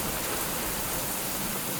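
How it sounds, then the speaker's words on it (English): Heavy rain pounds down steadily on an isolated off-grid beach oasis as storm fronts collide, a dense, constant roar of close downpour with no voices and no breaks. "Now we're getting pounded away with rain."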